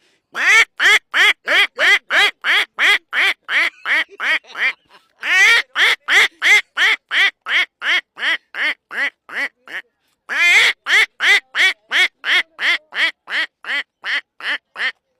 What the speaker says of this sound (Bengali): হাঁস ডাকতেছে পাক পাক পাক